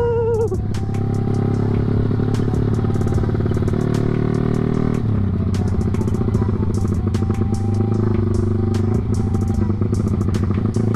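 A Yamaha Vixion motorcycle tuned to 195cc idles and revs close by, its engine thrumming steadily with a rattling clatter and shifts in pitch as the throttle is blipped.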